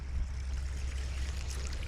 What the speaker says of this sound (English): Oh, it's starting to rain.